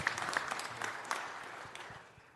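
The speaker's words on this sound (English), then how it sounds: "Give them a round of applause." Brief, fairly faint applause at a city council meeting, a short patter of clapping that fades out within a couple of seconds.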